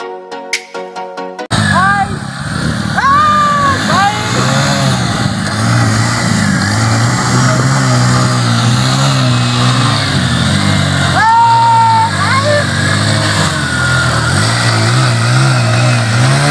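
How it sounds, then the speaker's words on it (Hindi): A motorcycle pulls two other motorcycles tied on with rope, its engine revving and droning steadily and loudly throughout, with rising whine sweeps and voices talking over it. "इस एक बाइक से इन दोनों बाइकों को एक साथ एक बाइक से दोनों बाइकों को खींचेंगे"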